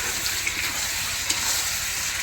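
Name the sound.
chicken cooking and being stirred in a pot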